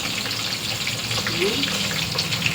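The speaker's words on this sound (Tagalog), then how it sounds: "Salain natin kasi yung mantika." Hot cooking oil being strained off fried capsicum and carrots in a home kitchen, heard as a steady, loud hiss and trickle running without a break.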